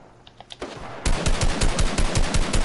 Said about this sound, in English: Why is this guy shooting at me? Did he shotgun you?